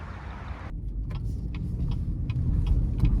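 A 2022 GMC Terrain AT4 with all-wheel drive pulls away under throttle on the road, a steady low engine and tire drone building in loudness inside the cabin, with faint ticking over it.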